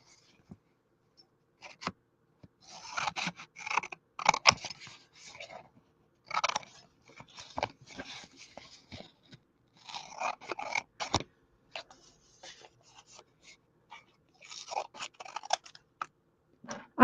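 Scissors snip through craft letters, cutting them in half in a series of close, crisp irregular clips and crunches against a quiet background.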